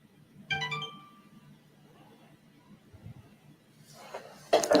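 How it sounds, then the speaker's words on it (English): A mobile phone ringtone sounds as a short, bright chime of a few tones, followed by quiet room noise and a louder clattering burst near the end. "So, excuse, that was my phone."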